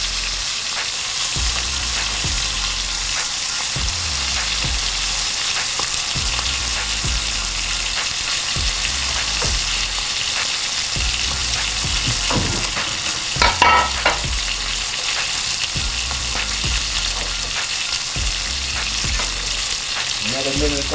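Steak sizzles steadily in butter in a hot pan, a loud, continuous frying hiss with faint crackles and occasional clinks, close up and without talk.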